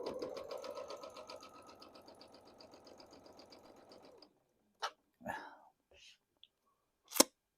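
A sewing machine runs steadily for about four seconds, stitching quilt block pieces for a simple star or sawtooth block, then stops, followed by a few brief handling clicks and knocks.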